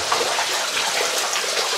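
Water dripping and pouring down inside a mine shaft, a steady close wash of splashing and trickling with no other sounds.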